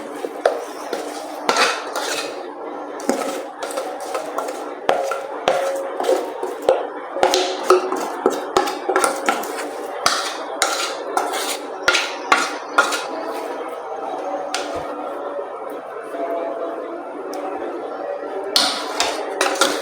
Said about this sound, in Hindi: इसको अब हम एक बाउल में निकाल लेंगे स्पून की मदद से।